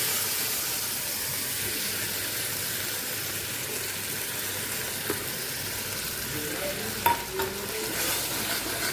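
Tender green coconut malai paste frying with spices in oil: a loud, continuous sizzle and steamy hiss fill the whole stretch, with a few soft scrapes of stirring near the end and no talk.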